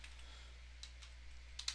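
Keys on a computer keyboard are pressed while dimensioning a sketch in CAD software, a few quiet, separate taps spread out and then a quick cluster at the end, with no talking.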